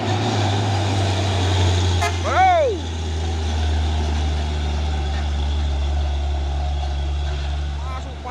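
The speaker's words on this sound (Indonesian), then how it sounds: "Pasukan truk tangki CPO ini ya," CPO tanker trucks roll past on a road, a loud steady low engine drone with a horn toot midway, while a voice talks over the traffic.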